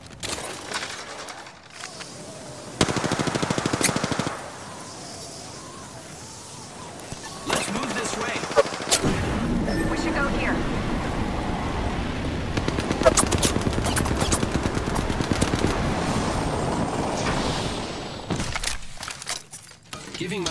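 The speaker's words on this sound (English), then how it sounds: "The enemies are shooting at me." Enemy gunfire in a shooter video game rattles in loud, rapid bursts and scattered shots over a busy background of game effects, with voices speaking in between.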